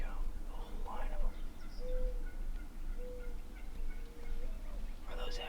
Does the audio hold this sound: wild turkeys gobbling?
yes